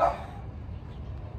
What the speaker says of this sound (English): i'm sorry for the dog barking in the back